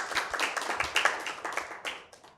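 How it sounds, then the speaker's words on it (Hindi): Team members and audience at a school Bible quiz clap for themselves, a brief scattered burst of handclaps from a modest group, fairly close and tapering off. "ज़ोर से ताली बजाएंगे।"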